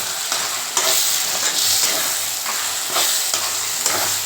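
Oil sizzles steadily in a pan while a spoon scrapes and stirs spices with salt and turmeric, with soft rhythmic knocks.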